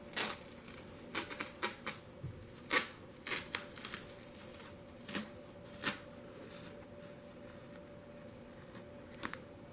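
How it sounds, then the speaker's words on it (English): Masking tape comes off a spinning fishing rod blank around an epoxied reel seat and foregrips in a series of short, crisp crackling rips, close and fairly quiet, with pauses between pulls over a low steady hum. "Now we can peel the tape off."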